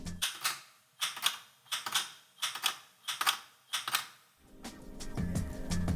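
Twiddle scratch on a DJ mixer crossfader: six evenly spaced bursts of rapid fader clicks cutting a sound on and off, crisp and close, followed by a steadier buzzing tone at the end.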